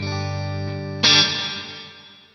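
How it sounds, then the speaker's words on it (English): A guitar chord run through the default reverb of a Poly Effects Beebo pedal, sustaining steadily, then a brighter re-struck chord that blooms and decays in a long smooth wash of reverb, played alone. "So this is, that's the default reverb."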